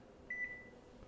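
A kitchen timer gives a short, faint, thin beep as it is set for 25 minutes in a quiet kitchen where vegetables are roasting in the oven.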